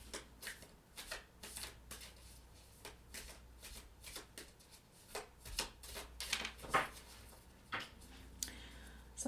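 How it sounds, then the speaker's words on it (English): A deck of tarot cards is shuffled close by, with repeated soft riffling bursts and light taps in an uneven rhythm. "Something's telling me to shuffle this deck more than I usually do"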